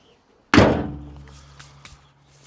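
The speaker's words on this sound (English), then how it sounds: "I want to shut the hood better than what I did" A Chevelle's hood is shut with a single loud metallic slam that rings out briefly, then fades, followed by a couple of faint knocks in a quiet setting.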